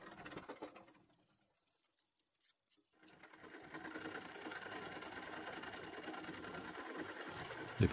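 A scroll saw cuts through two glued layers of plywood with a fast, buzzing reciprocating chatter, starting briefly, pausing into near silence, then running steadily.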